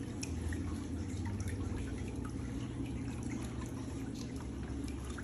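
Water runs steadily into the basin of a chocolate-coloured LUXSPA X6 LS250 pedicure chair during a leak test, a soft continuous trickle and splash at close range with a low background hum.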